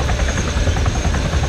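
A helicopter in a video game gives off a loud, continuous rotor drone with a rapid rhythmic chop, close and steady throughout.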